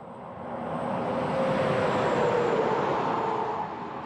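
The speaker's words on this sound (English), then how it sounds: "you can hear the traffic" Steady road traffic roars nearby on Route 66 just off Interstate 40 at the Continental Divide, a broad continuous rumble that swells as vehicles pass and eases slightly at the end.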